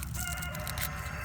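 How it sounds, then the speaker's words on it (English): A rooster crows at a garden where hardneck seed garlic is being planted in Southern California, one loud call filling the short moment without talk. "There's my rooster."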